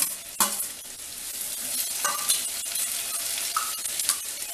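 Tomato frying in a pan for a brinjal masala, a soft continuous sizzle broken by several clinking stirs of a utensil against the pan, close and fairly quiet, with no talk.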